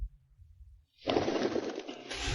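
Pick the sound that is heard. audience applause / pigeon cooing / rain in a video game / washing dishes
pigeon cooing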